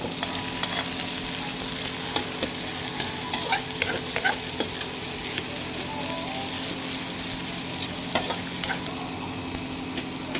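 Onions sauté with garlic in a hot pan, a steady close sizzle and frying hiss under scattered scraping stirs of a utensil, with no talk.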